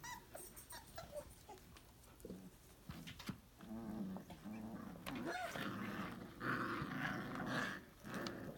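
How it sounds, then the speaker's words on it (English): Puppies growl and grumble close by in a playful, continuous series of rough, rising growls, mixed with small whimpers and yips, with no talking. "These are good growls."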